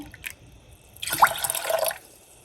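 Water poured from a tumbler into a pressure cooker holding moong dal, a short steady splashing pour of about a second, close and moderately loud, with no talking.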